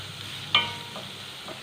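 Thinly sliced onions sautéing in a pan for wheat dosa, a steady soft sizzle with a few sharp scraping stirs of a spatula, close and alone.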